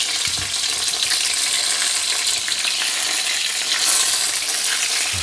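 Egg rolls frying in hot oil give off a dense, steady sizzle with crackling splatters, loud and close, continuing throughout without talk.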